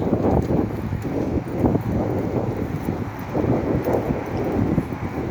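Cold, gusty wind, with sand blowing, buffets the microphone in a loud, steady rumble that swells and eases in gusts throughout, with no voices heard.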